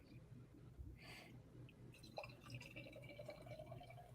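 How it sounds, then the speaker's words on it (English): Beer poured from a freshly opened can into a glass, a hoppy brew made with Vic Secret hops; steady liquid trickling and fizzing runs throughout, with a sharp click near the middle, fairly close and moderately quiet. "crack it, pour it."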